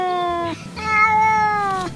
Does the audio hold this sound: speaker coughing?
no